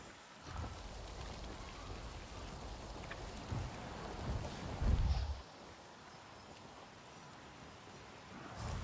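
Rain falling in the video game Avatar: Frontiers of Pandora, a soft steady patter with low rumbling swells, fairly faint and continuous, no voices.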